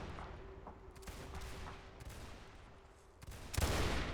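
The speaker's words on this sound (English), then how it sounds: "Putting shots down range there." Musket gunfire crackles in a multiplayer war game battle, scattered distant shots from many rifles, with a louder, nearer volley near the end.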